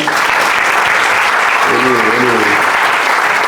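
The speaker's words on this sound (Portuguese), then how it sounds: "vamos aplaudir o Rogério" A church congregation claps loudly and continuously for a member named Rogério, broad dense applause with voices calling out faintly beneath it partway through.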